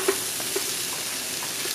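Curry crab ingredients being stirred together in a pot: brief soft scraping and a few light clinks over a low sizzle, close by and without speech.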